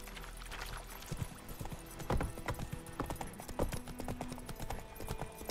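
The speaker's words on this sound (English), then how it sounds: "Whoa there, Roach" Hooves of Roach, Geralt's horse in The Witcher 3 video game, clip-clop in a steady walking rhythm, close and fairly quiet, with occasional louder hoof strikes.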